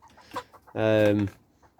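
Chickens in a new coop, one loud drawn-out call standing out in the middle, with softer clucks and murmurs scattered before and after, fairly close.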